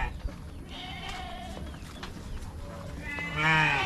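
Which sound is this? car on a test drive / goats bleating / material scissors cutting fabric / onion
goats bleating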